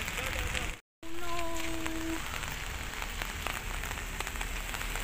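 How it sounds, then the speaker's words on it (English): Steady rain hisses down on a surface close by, with a brief dropout near the start and a faint passing tone. "It's raining here"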